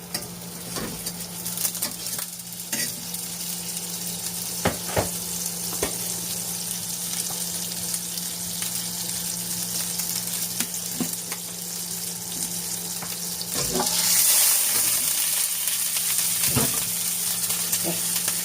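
Minced pork sizzles steadily in a hot pan as it fries, with intermittent scraping and stirring knocks, a brief louder hiss toward the end, and no talking.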